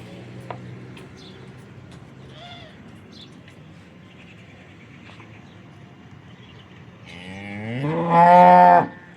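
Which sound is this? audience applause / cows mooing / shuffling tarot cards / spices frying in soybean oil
cows mooing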